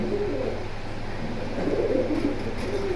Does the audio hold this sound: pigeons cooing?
yes